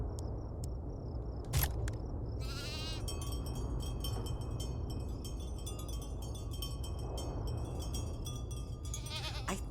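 Sheep bleat faintly in the farming video game Farm Together 2 over a quiet ambient background, with bright, repeated clicking chimes and short tonal effects.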